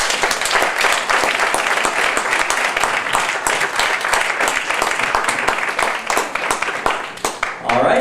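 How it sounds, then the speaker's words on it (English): A large audience gives loud, dense applause as panelists leave the stage at an esports executive summit, continuous clapping filling the room before thinning slightly near the end. "please one more time give them all a round of applause"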